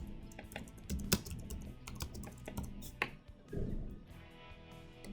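Keys on a computer keyboard are tapped as a mobile number is entered into a client portal, an irregular run of close, crisp clicks in quick bursts with a short pause, no voices over them.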